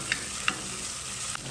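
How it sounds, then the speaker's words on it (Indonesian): Spice paste stir-frying in its own oil in a pan, heard as a quiet steady sizzle with a few faint clicks of a utensil against the pan and no speech. "Ditumis sampai harum."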